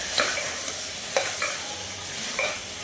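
A spice mixture stirred and fried over a medium flame for pudina biryani, with a steady close sizzle and a few sharp scrapes of the spoon against the pan at irregular intervals.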